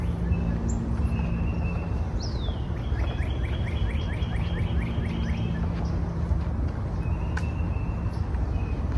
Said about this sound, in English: the birds sing.